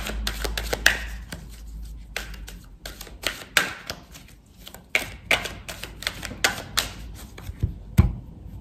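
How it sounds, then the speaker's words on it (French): Tarot cards are shuffled by hand in a quiet room, a string of crisp riffling and slapping bursts at an irregular rhythm, close and clear with no talk. "J'essaie de bien mélanger les cartes."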